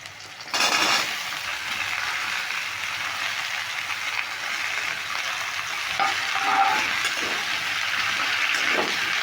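Ash gourd pieces hit hot oil with tomatoes already in the pan, starting with a sudden burst of loud sizzling that continues steadily and close up, with occasional stirring clinks and scrapes.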